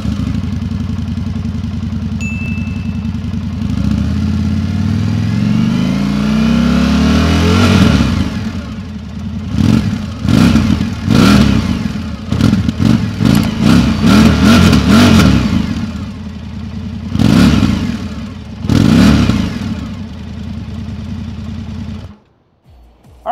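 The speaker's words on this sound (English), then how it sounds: "I gotta get you an exhaust clip. So let's have a listen." An Indian Scout Sport motorcycle, 2025 model, idles with a steady rumble, then its exhaust is blipped through a series of sharp, loud revs, rising and falling in bursts, before the engine cuts off abruptly.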